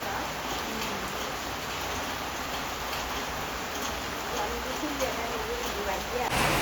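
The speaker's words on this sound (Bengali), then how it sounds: "প্রচুর বৃষ্টি হচ্ছে" Heavy rain falls steadily as a continuous broadband hiss with a faint ticking patter on surfaces, even in level throughout, with a brief louder bump at the very end.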